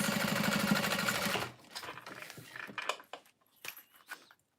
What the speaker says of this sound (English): top stitching the side panels